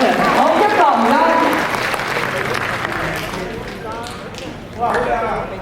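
Audience in a Cantonese opera theatre claps, a dense burst of applause that fades down and then swells again briefly, with voices speaking over it.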